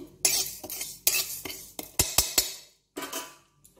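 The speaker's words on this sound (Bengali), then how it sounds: "মশলাগুলো ফুটফুট করছে" Panch phoron and mustard seeds dry roast in a pan, heard as a series of sharp scraping and clattering stirs with brief quiet gaps between them. Faint popping may sit underneath.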